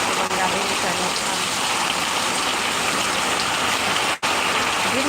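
Rainy-season downpour, a loud steady hiss of rain on surfaces, continuous and close, broken only by a brief dropout near the end.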